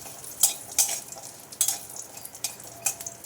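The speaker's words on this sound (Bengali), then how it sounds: "বড়িগুলো ভেজে নেব ফুলকিতে মনে হচ্ছে আমার একটু জল ছিল তাই লাফাচ্ছে তেলটা" Lentil dumplings (bori) fry in hot oil that spatters from a little water, giving sharp irregular pops and crackles over a soft sizzle, close and fairly loud, with no voices.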